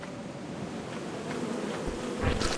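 Bees in a video game buzz in a dense, steady swarm drone, fairly loud and continuous, swelling slightly toward the end with no talking.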